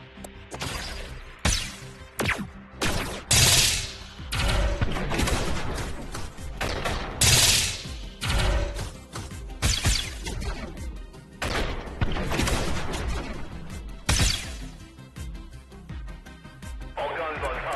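Station guns in the space game Station Command fire in loud rapid bursts, sharp cracks and booming volleys clustered across the stretch with brief gaps, over a busy mechanical background.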